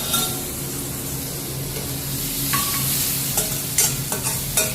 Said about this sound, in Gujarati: ડુંગળી સોતરાઈ છે.